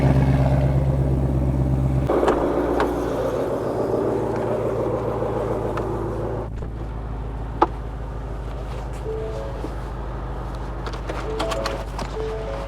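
2020 Ford Shelby GT500 with a track exhaust and resonator delete, its deep engine rumble idling loudly then rising into a steady, throaty drone as the car pulls away, with one brief sharp click partway through.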